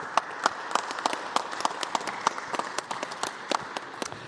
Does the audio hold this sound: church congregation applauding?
yes